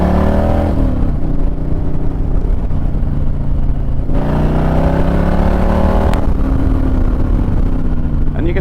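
An Indian 112 PowerPlus motorcycle accelerates hard through the gears on the road, its engine note climbing in loud, steady pulls with a gear change partway through, riding under continuous wind rush.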